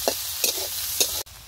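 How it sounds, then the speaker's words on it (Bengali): Onions fry in oil with cumin seeds in a kadai, a continuous close sizzle broken by a few louder stirring scrapes before it cuts off abruptly near the end. "পেঁয়াজটা একটু ভাজা ভাজা করে নেই।"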